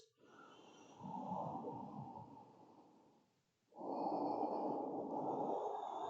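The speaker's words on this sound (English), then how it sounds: "Take a couple of breaths." Slow, soft breaths during a resting yoga pose: a long exhale tapers off, a short pause follows, then another long breath, close and quiet.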